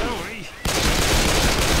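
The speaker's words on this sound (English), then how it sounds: "Watch where you're shooting!" Rapid gunfire in Left 4 Dead 2 erupts as a dense, loud volley of overlapping shots after a brief lull with a voice, continuing steadily to the end.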